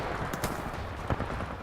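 Gunfire in the video game Titanfall 2 during a multiplayer match: a steady wash of rapid shots, with a few sharper louder bursts standing out near 0.4 and 1.1 seconds.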